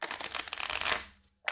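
A deck of cards from the board game Brass: Lancashire is shuffled by hand in a quick flurry of riffling and flapping, close and brief, ending in silence before a short final shuffle.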